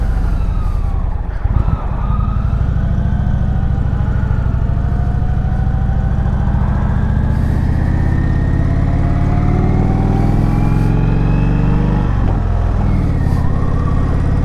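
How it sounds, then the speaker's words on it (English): A 2019 Indian Springfield motorcycle cruises along, its mild engine and exhaust note a steady droning hum that slowly climbs in pitch, with a brief bump near the start and wind rushing under it. "It's only got a very mild note. Needs a little bit more of a exhaust system on it, I reckon,"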